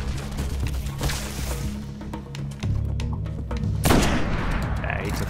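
Sniper rifle shots in the video game Destiny, a few sharp booming reports over busy battle noise and a low engine-like drone, with a louder blast near the end; someone talks over it.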